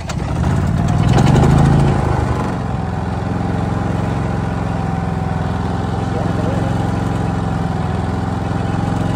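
A Cummins Onan P4500i portable inverter generator runs right after start-up, surging louder briefly before settling into a steady, close, continuous engine drone with no load.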